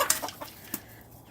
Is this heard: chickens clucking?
yes